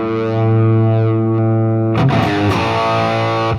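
An electric guitar runs through an Overloud TH3 Brunetti amp simulation, giving a heavily distorted sustained chord that rings out before fresh chords are struck and left to ring.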